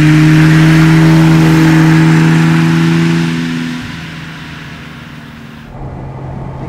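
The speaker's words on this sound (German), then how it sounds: "Es ist ja ein 6-Zylinder-Motor, der da vorne seine Arbeit verrichtet." A 1970 Mercedes 280 SL Pagode six-cylinder engine revs loudly with a steady drone, then falls back toward idle and holds a lower, quieter hum.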